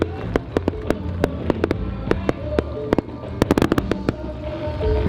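Fireworks at a Mexican carnival pop and crackle in rapid, irregular bursts over a steady low rumble, heard from a boat offshore, with dense clusters of sharp bangs at moderate distance.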